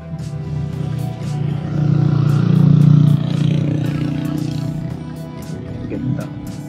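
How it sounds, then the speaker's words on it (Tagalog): Motorcycles draw near on a mountain road ride around Malico, Pangasinan, a steady low engine drone that swells toward the middle and then holds, with no talk over it. "Malayo pa lang, rinig na kagad yung mga dumarating na motor eh"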